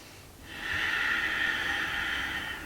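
A long, steady exhale through the nose during a yoga balance pose, close and breathy with a hissing edge, lasting about two seconds after a brief quiet moment, with no talking.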